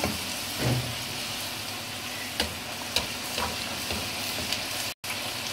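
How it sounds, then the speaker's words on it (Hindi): Puris of spiced potato dough sizzling in hot oil in a pan while a steel spoon ladles oil over them, a steady loud frying hiss throughout with a few sharp spoon clicks and pops. "हम इसमें ये पूरी डाल रहे हैं तेल हमारा गर्म हो चुका है"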